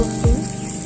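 Garlic drops into a hot pan of frying onion and chilli, giving a short loud sizzle burst that settles into a steady hiss.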